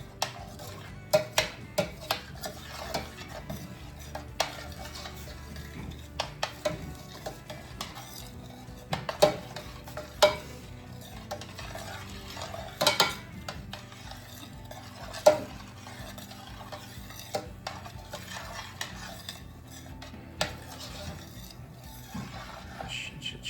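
A spoon scrapes and clinks intermittently against a pan while mushroom risotto is stirred constantly, with sharp metallic taps scattered over a faint, low background.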